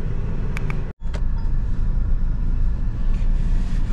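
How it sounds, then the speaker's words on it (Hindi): Interior drone of a 2025 Mahindra XUV 3XO diesel SUV on the move, a steady low engine and road rumble with a brief dropout and a few light clicks early on. "फाइनली जाके महिंद्रा XUV 3XO आज गाड़ी ड्राइव कर रहा हूँ मैं"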